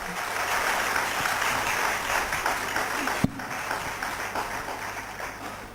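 A large audience gives a sustained round of applause to open the 11th Indo-Japan Bilateral Conference 2016 at a college, steady dense clapping that fills the hall at moderate volume, with a single sharp knock partway through.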